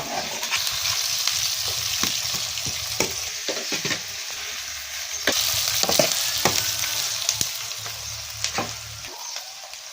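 Sliced onions and green chilies fry in hot oil for gongura chicken, a continuous close sizzle broken by repeated stirring scrapes and clatters, with no talking.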